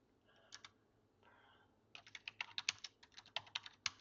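Quiet computer keyboard typing: a couple of short bursts of key clicks, then a quicker run of crisp taps, close but soft, with no voice over it.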